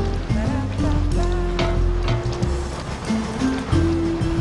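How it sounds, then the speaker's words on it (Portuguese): Chopped onion sautés in butter and olive oil in a pan for a Singapore-style prawn dish, giving a steady, close sizzle with a tonal hum running through it. "Deixar essa cebolinha refogar legal"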